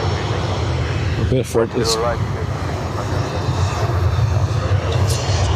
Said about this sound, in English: Let's see the Lingus coming here.